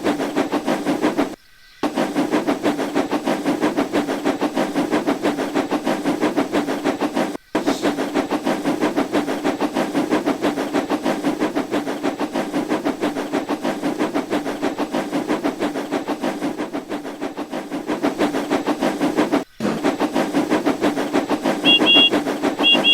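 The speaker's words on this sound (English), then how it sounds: "all the engines had the same chuffing sound as Rosie and all the other engines in this game" A rapid, steady rhythmic chuffing of a steam locomotive in a Roblox video game, loud and continuous, with a couple of abrupt brief dropouts.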